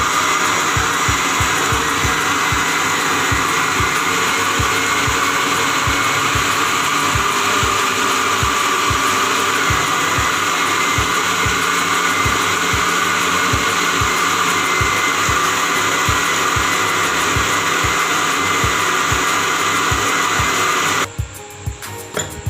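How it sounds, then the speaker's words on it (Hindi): An electric grinder whirs loudly and continuously as it blends soaked moong dal for dahi baray batter, a steady motor drone with a rapid rhythmic churning that cuts off near the end. "अब मैं दाल मूंग की ग्राइंड करके फिर आपको मिक्स करके दिखाती हूँ।"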